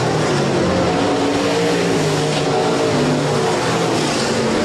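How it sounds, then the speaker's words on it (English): Stock cars race around Rapid Speedway, an oval track, their engines making a steady, loud roar that holds without a break throughout, with no speech over it. "Jesse Brown, your race leader. Stefan Siebesma will challenge down the backstretch"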